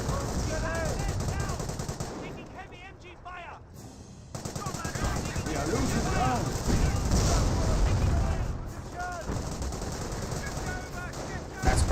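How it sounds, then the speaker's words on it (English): Heavy machine gun fire rattling through a Company of Heroes battle, with a Panther tank taking hits, dense continuous bursts and distant booms layered under a commentator's steady voice. "Panther taking some abuse. Taking heavy MG fire."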